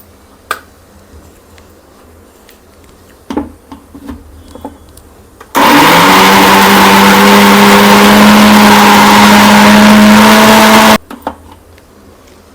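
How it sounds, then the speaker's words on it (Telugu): Mixer grinder blending cucumber chutney in a home kitchen: after a few clicks and taps, the motor whirs loud and steady for about five seconds with a droning hum, then stops abruptly. "ఇంక ఇదైతే మిక్సీకి వేసేస్తాను."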